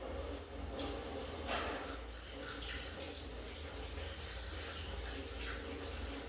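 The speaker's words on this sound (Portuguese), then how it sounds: "No meu caso aqui eu vou escorrer elas, porque eu estou só com 3 aqui." Water running and splashing in a kitchen sink as boiled potatoes are drained, a steady rushing stream with brief louder splashes, close and continuous without talk.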